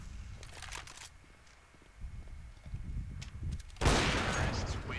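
Gunfire in the video game Counter-Strike: Global Offensive during a competitive match, scattered shots and bursts with a sharp louder blast near the end, mixed with footsteps and game noise.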